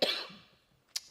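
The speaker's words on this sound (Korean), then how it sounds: "자꾸 기침이 나와요." A person coughs indoors in a church, likely bothered by air-conditioning draft: one sharp close cough with a fading tail, then a brief second cough-like burst a moment later.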